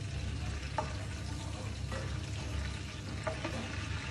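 Onion frying in olive oil in a pan, a steady close sizzle with occasional small crackles and pops over a constant low hiss.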